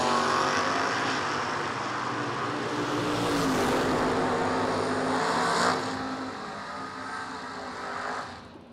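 Two cars launch side by side in a heads-up drag race, a loud sustained engine roar that builds, then fades as they pull away into the distance.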